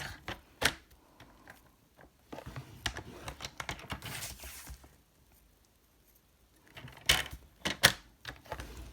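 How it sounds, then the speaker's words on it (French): Paper being creased and folded on each side for a scrapbooking display box, giving several short crisp taps and rustles in bursts with quiet gaps between, close and fairly soft, with no talking. "je fais mes plis de chaque côté à 4 cm"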